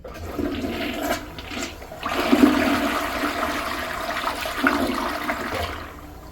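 A third-generation Gerber Maxwell toilet, rated 1.28 gallons, runs an extended flush with the handle held down, giving a loud, steady rush of draining water for about four seconds before it cuts off.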